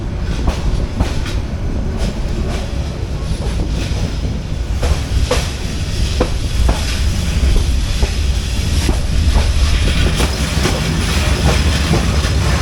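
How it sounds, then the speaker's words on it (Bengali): Jayantika Express passenger train running on the rail line near Azampur, with a steady loud rumble and rhythmic clickety-clack of wheels over rail joints, occasional sharper clanks throughout. "আমরা জয়ন্তীকে এক্সপ্রেসে করে চলে যাচ্ছি আজমপুর রেল"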